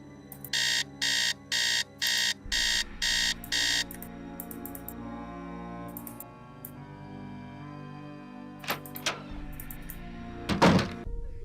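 A bedside alarm clock in the Nancy Drew game Message in a Haunted Mansion rings in six loud, evenly spaced electronic bursts, followed by quieter thumps and clunks, then a sharp knock near the end.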